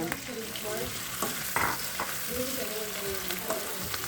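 Pork fries in a pan for monggo, a steady sizzle running throughout while a utensil stirs and scrapes the pan in irregular strokes; quiet background voices mingle with the frying.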